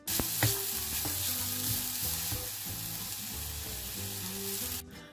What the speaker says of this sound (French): on remue jusqu'à ce que la noix de coco caramélise